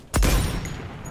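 A loud shotgun-style blast from a double-barrel weapon in a shooter video game, a single sharp report followed by a lingering roar and faint background game noise.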